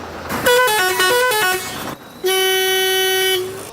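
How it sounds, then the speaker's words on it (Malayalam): Loud aftermarket vehicle air horn: a rapid melodic sequence of blaring tones, a brief pause, then one long sustained blast, close and piercing. "വാഹനം വാങ്ങുമ്പോൾ അതിൽ ഘടിപ്പിച്ചിരിക്കുന്ന ഹോണും പിന്നീട് വെച്ചുപിടിപ്പിക്കുന്ന എയർ ഹോണും തമ്മിൽ വ്യത്യാസമുണ്ട്."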